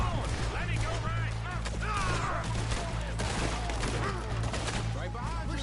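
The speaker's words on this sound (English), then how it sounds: "We're shooting our way out of here, boys!" Rapid gunfire rattles through a Red Dead Redemption 2 shootout, dense overlapping shots and cracks under shouting voices throughout.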